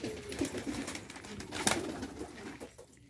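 Pigeons, red silvertail birds, cooing softly at close range, soft repeated coos over a steady background hiss with one brief sharper burst midway.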